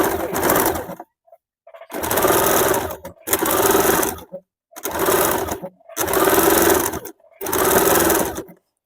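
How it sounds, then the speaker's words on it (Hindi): A sewing machine stitches a blouse sleeve in six loud, close bursts of rapid whirring, each about a second long and separated by short silences. "इसके ऊपर हम लोग पट्टी को बाहर तरफ निकाल के चाप सिलाई डाल देंगे"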